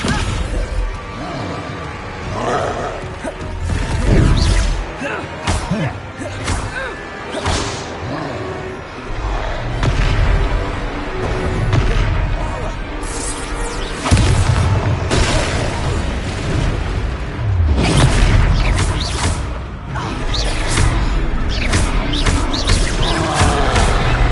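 Descendo spell slamming an enemy to the ground in Hogwarts Legacy, a loud magical whoosh and heavy thud amid a dense, continuous wash of combat impacts, bangs and music.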